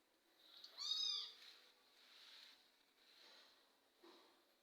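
Newborn kittens give thin, high mewing cries, one clear squeaky meow followed by several fainter, softer mews close by in a quiet room.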